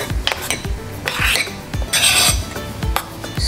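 Pepper being stirred into blended tomatoes in a pot for Ghanaian okro soup, a close run of repeated metal spoon scrapes and clinks against the pot in a steady rhythm, with no voices.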